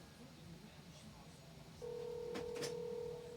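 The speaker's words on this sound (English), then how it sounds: "Pick up, Jessa." A phone call rings out while a voice pleads for someone to pick up, beginning with a faint background hum before a loud, steady electronic ringback tone cuts in and holds near the end, with speech heard around it.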